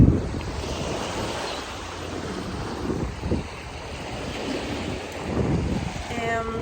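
Ocean waves wash onto a beach in a steady broadband roar, with swells rising and falling and wind buffeting the microphone throughout; no voices, just the surf close and loud.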